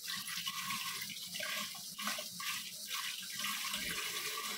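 Very hot water runs steadily from a tap in a kitchen sink, a continuous hiss and splash at close range with no talking.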